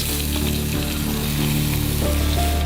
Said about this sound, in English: A sizzling pan first receives a portion of garlic, awaiting the pagpag meat.